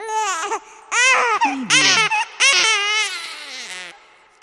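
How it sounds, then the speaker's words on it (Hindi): A baby cries through a baby monitor in wavering, high wails that start and stop in short bursts, loud and near, with brief pauses between sobs. "तभी बेबी मॉनिटर से रोने की आवाज आई।"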